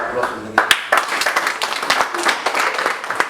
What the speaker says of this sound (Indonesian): kita kasih aplaus untuk itu